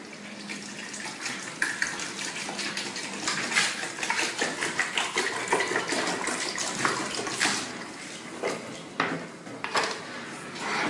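A litre of water poured into a coffee maker's reservoir, a steady splashing, gurgling stream lasting several seconds, close and moderately loud, with light plastic knocks and handling sounds.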